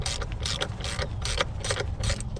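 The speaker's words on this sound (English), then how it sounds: "Now we're just gonna go ahead and tighten all of this up." Ratchet wrench tightening Allen bolts on lift blocks of a 2015 GMC Sierra truck, rapid clicking strokes repeating in short bursts, close and fairly loud, no talking.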